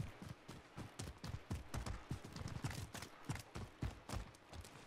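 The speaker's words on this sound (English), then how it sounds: "I think I hear footsteps, stop moving." Rapid, irregular footsteps in the Call of Duty Warzone video game, a clattering run of hard steps that stays fairly close and steady with no talk over it.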